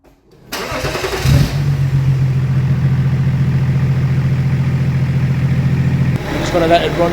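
A diesel BMW E36 fitted with a swapped M57d30 engine starts and settles into a steady, loud idle, running close by for several seconds before the tone shifts near the end.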